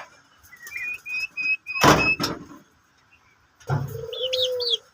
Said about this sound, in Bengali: দেখেন ঘুঘু পাখিটা ডাকতেছে